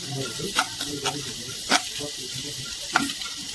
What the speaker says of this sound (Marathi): कांदा किती भाजायचा आहे सांगा